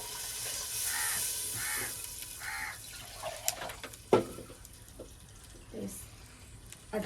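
Water is poured into a cooking pot for rice in a mud-house kitchen, a soft splashing pour under outdoor background noise, with crows cawing repeatedly nearby and a few clunks of utensils.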